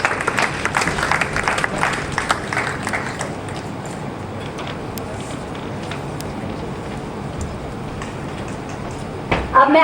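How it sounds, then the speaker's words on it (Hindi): Audience at a university environmental award ceremony applauds as a guest comes on stage; clapping is strongest at first, then fades to a softer, rain-like patter under low room noise, with a short bump of sound at the very end. "जोरदार तालियों से उनका मंच पर स्वागत कीजिए।"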